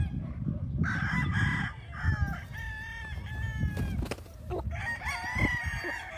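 Chickens on a large Philippine farm, with a rooster crowing repeatedly and hens clucking close by over a dense, steady barnyard din, no speech.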